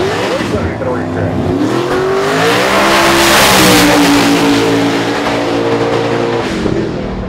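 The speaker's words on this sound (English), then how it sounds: "1993 Mustang, 400 cubic inch combination with a turbo." A turbocharged 1993 Mustang drag car with a 400 cubic inch engine revs hard at a racetrack, its loud, rising and falling engine note sustained throughout with a commentator talking over it.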